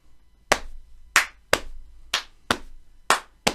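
Seven crisp, separate hand strikes in a steady beat from a Year 5 music class playing a loud tap-and-clap pattern, each sharp attack ringing briefly in an otherwise quiet room.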